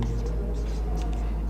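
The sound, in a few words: writing on a board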